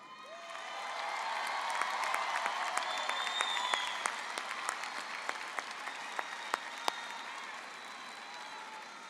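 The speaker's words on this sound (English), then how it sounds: "Please join me in a round of applause for Miss Linda Ramirez and the Socorro High School Orchestra." Audience applause for the Socorro High School Orchestra at a fall commencement ceremony, a dense, sustained wash of clapping from a large crowd with scattered sharp claps standing out, steady throughout and fading slightly near the end.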